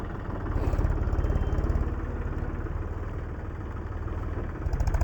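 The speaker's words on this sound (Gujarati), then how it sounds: "ટ્રેક્ટર હવે આવી ગયું છે આ રિવર્સમાં જ લઈ લેજો રિવર્સ" Tractor reversing on a construction site, its engine chugging steadily at idle-like pace with a rapid rhythmic thump, moderately close and without talk.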